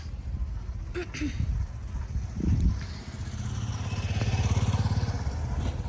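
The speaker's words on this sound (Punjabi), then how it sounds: "ਜਿਵੇਂ ਇਹ ਮੋਟਰਸਾਈਕਲ ਗਿਆਗਾ" A motorcycle engine rumbles past nearby at a bus stand, rising and revving over outdoor street noise, with a brief clatter early on.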